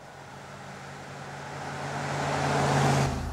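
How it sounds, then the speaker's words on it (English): A Ford F-150 pickup truck accelerates hard, its engine drone building steadily in loudness and pitch over a few seconds before cutting off abruptly near the end. "Flip the accelerator on the F-150 and you realise what this beast is all about"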